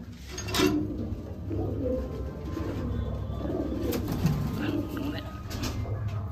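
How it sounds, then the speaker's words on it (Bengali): Madrasi pigeons coo in a flying-pigeon loft, soft low rolling calls throughout with faint fluttering and scattered background noise, while people talk nearby. "এইগুলো সব ওড়ানের পায়রা"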